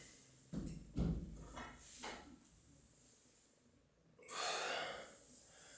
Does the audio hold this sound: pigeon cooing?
no